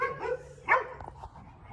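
Cattle dogs at a boarding kennel give a few short barks and yips, fairly close, with a brief louder bark in the middle and then quieter sounds.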